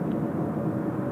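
Air Premier airliner arriving from Los Angeles at Seoul Incheon Airport, a steady broad jet roar heard from a distance, constant in level throughout with no voices.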